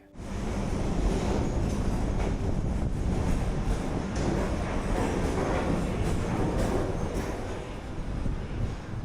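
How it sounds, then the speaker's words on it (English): A train pulls out of Mysuru Junction toward Ashokapuram, a steady broadband rumble of wheels and cars rolling past, loud and continuous with some wind buffeting and no voices. "I waited on the footover bridge to get the shot of the train departing towards Ashokapuram"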